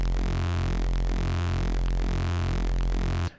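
A synth bass pushed through a saturator into broken, fuzzy distortion: a loud, buzzing, harmonically dense tone that pulses rhythmically for a few seconds, alone, then cuts off.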